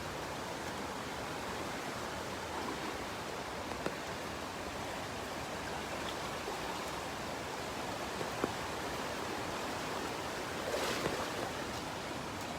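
Steady, roaring rush of fast-flowing floodwater in a flooded creek fills the whole clip, a dense broadband wash with no pauses and no voices.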